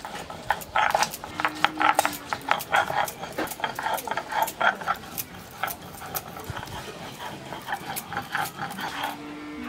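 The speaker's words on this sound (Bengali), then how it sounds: "এবার গোলমরিচ আর শুকনো লঙ্কা বেটে নেব।" Black peppercorns and dried chillies ground on a grinding stone make a steady run of rough, rhythmic scraping strokes, close and fairly loud, repeating throughout.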